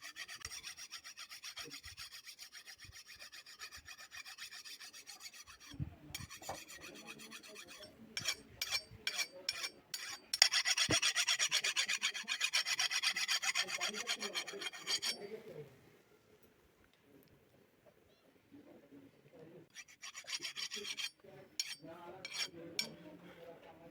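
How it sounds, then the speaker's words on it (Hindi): A metal file rasps against a blade to sharpen it, making bursts of harsh, scraping back-and-forth strokes close up, with pauses between passes and brief talk. "अब इसको थोड़ा सा बस पैना कर देते हैं रेती मार के"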